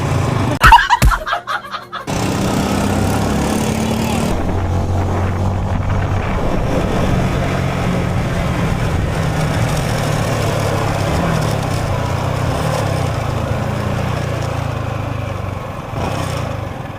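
A big motor engine drones loudly and continuously, steady throughout after a brief clattering start, with no talk over it.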